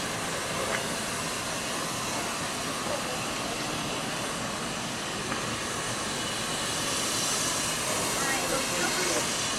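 Steady loud hiss and rumble of a steam train at Disney's Magic Kingdom, continuous throughout with no pauses.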